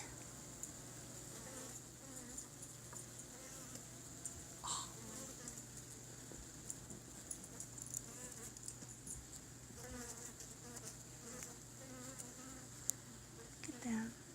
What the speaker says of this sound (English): These are the bees in their little box, buzzing around.